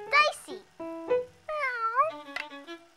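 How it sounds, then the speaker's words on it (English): An animated cartoon cat meows in several drawn-out, sing-song calls, close and clear, with short pauses between them and no other sounds. "And here's the Bevel square cat"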